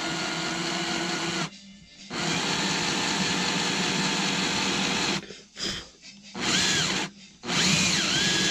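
A power drill bores screw holes in wood during a narrowboat fit-out, whining loudly and steadily, then stopping and restarting in several short bursts with brief pauses toward the end.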